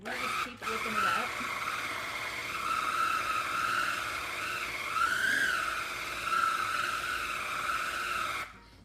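An electric mixer whips a garlic cheese spread with butter, producing a steady close whirring hum with slight pitch shifts as the beaters work through the mix, running continuously before cutting off.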